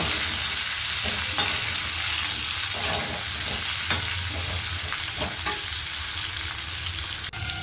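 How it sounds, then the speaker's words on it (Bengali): Cauliflower fries in oil with a loud, continuous sizzle and crackle, close up, with faint scraping of stirring now and then. "ওই তেলের মধ্যেই আমি ফুলকপিগুলোকে একটু লাল লাল করে ভেজে নেব"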